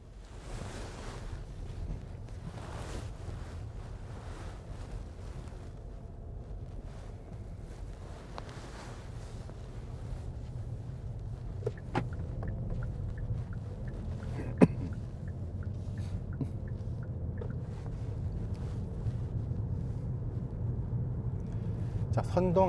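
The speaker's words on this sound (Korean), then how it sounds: "시동을 이제 걸었으니까 출발을 해보죠." A Hyundai Grandeur IG pulls away and drives on, its muffled cabin noise a steady low road and engine rumble that slowly grows louder as it gains speed, with someone talking quietly at the start.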